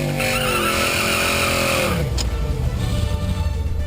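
Fox Body Mustang on a shakedown run at US 43 Dragway in Lawrenceburg, Tennessee, its engine loud and close, revs falling midway into a lower steady drone with tire noise beneath.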